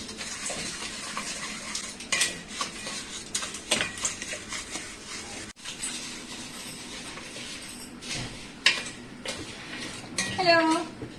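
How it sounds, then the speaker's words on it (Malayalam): A spoon clinks and scrapes around a metal cooking pot as ghee is stirred in a home kitchen during Onam sadhya preparations, with irregular knocks, a brief break, and voices talking intermittently nearby. "നെയ്യിട്ട് നന്നായിട്ട് ഇളക്കാം"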